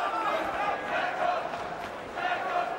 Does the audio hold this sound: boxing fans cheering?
yes